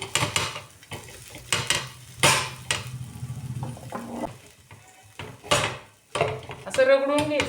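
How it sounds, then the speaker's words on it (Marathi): Roasted pavta beans being crushed and mashed with a copper pot in a kitchen for a Maharashtrian bean curry: repeated close knocking and grinding strikes in uneven bursts with short pauses, and brief voice sounds near the end. "पण मी हे तांब्याने बारीक करून घेते."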